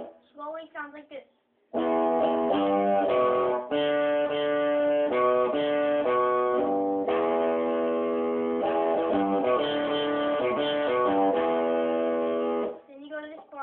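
Electric guitar playing the main riff of a song at a slow tempo, a short muted lick followed by sustained, distorted-sounding riff notes and chords, played alone and close, trailing off at the end.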